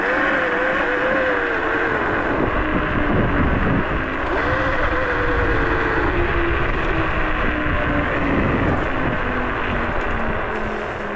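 A Laotie Ti30 electric scooter accelerates up a slope, its motor whine rising in pitch over steady road and wind rumble, loud and close throughout with no talk.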